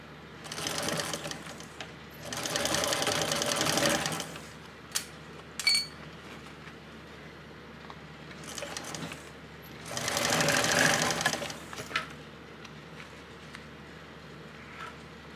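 A sewing machine stitches the boxed corners of a crossbody bag at a 3/8 inch seam, running in two loud sustained bursts with quieter handling and clicks between them.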